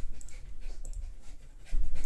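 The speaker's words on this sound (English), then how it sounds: "If you can hear the noise in the background, I'm sorry. It's my" A dog pants close by in quick, rhythmic breaths, heavy and continuous throughout.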